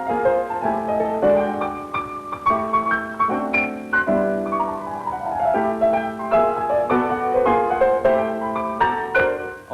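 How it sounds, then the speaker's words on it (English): Progressive jazz piano plays a standard, rich chords and flowing melodic runs continuing steadily throughout, close and solo, with no voices. "a cool progressive cat is playing it on the piano in Birdland,"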